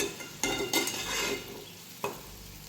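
A spoon stirs gavar (cluster bean) curry in a pan on the stove, giving a few scraping strokes over a soft simmering sizzle, close and fairly quiet.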